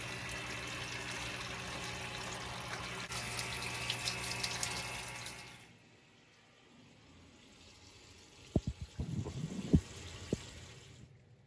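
Water pouring into a 125-gallon planted aquarium over a sand-capped dirt substrate, a steady running gush that stops midway, followed by a few close splashes and trickles.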